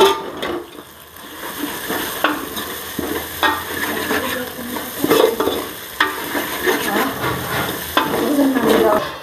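Grated coconut is stirred into a spice mix in a pan, the spoon scraping and rattling in an uneven rhythm over a low sizzle of frying, with clearer knocks here and there. It sounds close and steady, and no one speaks.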